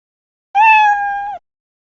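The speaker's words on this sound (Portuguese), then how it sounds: "toque o som miau" A single cat meow sound effect from the Scratch programming environment, one clear drawn-out tonal call of under a second, loud and isolated against silence.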